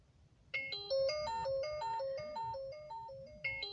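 A phone alarm plays a bright, repeating electronic melody of tinkling notes, steady and moderately loud, with no talking over it.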